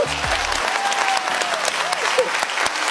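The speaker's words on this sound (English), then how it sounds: "And look at all the guys over there clapping." A group of men in an audience clap loudly together, forming a continuous burst of applause with a few overlapping voices faintly beneath.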